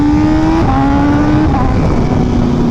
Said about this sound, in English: this bike sounds so good right now with the SC Project exhaust system